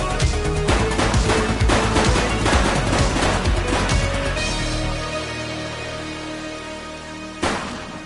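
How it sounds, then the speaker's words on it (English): Gunfire in the video game The Precinct, dense rapid volleys of shots crackling continuously and loudly, easing slightly toward the end with one more sharp burst. "He's shooting!"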